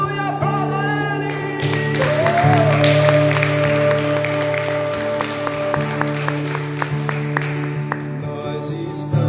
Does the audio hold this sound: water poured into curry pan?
no